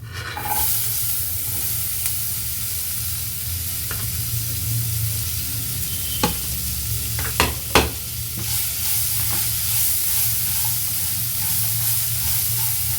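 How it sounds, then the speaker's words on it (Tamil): Onions sizzle steadily in a hot pan, with a few sharp scraping clicks of stirring partway through. "இப்போது வெங்காயம் நல்லா வதங்கிடுச்சு"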